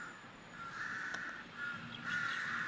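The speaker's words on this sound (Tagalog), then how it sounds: "So, ito yung isang uwak." A crow caws a few times in Lumpini Park, Bangkok, with harsh, fairly faint calls over quiet outdoor background.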